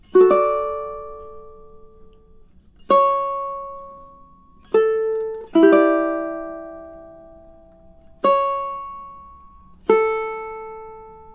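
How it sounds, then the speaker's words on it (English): Solo ukulele playing the opening two measures of the romantic classical piece "Bella Vita": six separate plucked notes or chords, each ringing out and decaying, spaced slowly and evenly, close and clear with no talking. "let's have a go at playing those 2 measures through together now"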